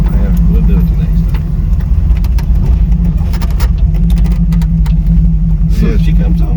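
A car engine runs loud and close after adjustments, a steady deep rumble with slight revving, while people talk over it in a garage setting.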